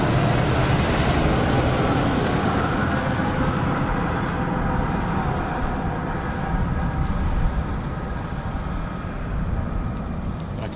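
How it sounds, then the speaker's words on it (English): Distant F-35 jet engines spool at a military airbase, a broad, continuous roaring rumble that holds steady and eases slightly over the span, with no voices. "Still hear F-35 engines still spooling in the distance"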